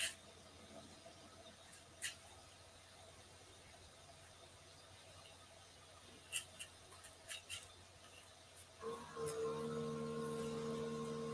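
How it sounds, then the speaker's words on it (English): A small DTF printer runs in the background, giving scattered faint mechanical clicks and ticks before a steady whirring hum starts up near the end. "If y'all can hear that printer in the background, that's that smaller DTF printer."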